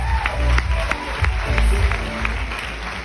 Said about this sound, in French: Ok, on peut les applaudir.